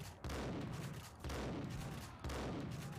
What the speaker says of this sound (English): Using my shotgun sniper rifle here.